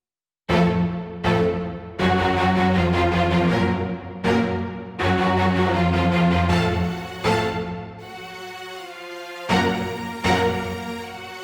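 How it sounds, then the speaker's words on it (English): A soloed orchestral strings layer from a metal track plays sustained, swelling chords that change in several distinct blocks with brief gaps between, full and loud, with no voices. "So these are the strings by themselves."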